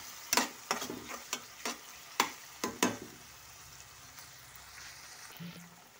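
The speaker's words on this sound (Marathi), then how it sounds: "ढोबळी मिरची, छान अशा भाज्या परतून आणि शिजून घ्यायच्या आहे आपल्याला" Chopped tomato and bell pepper sautéing in a kadhai, with a series of sharp scraping stirs of a spatula against the pan over a soft sizzle, then quieter frying.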